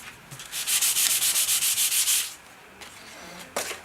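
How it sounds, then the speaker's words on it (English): Balsa wood model rocket fins sanded by hand, a rapid run of about a dozen close, rhythmic rasping strokes, then a pause and a couple of lighter single scrapes, with no talking. "it doesn't take a lot to get it sanded down"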